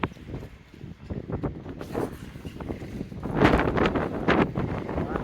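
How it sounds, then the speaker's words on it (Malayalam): Cold wind gusts buffet the microphone outdoors at Elappara, a rumbling rush that rises and falls and grows stronger toward the end. "നല്ല കാറ്റടിക്കുന്നു. നല്ല തണുത്ത കാറ്റ്"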